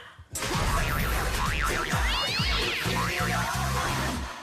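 A French TV segment jingle built from cat meows: loud, repeated sung meows over a bouncy musical backing, continuing steadily with no talking.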